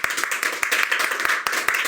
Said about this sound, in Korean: 박수 한번 쳐도 좋아요.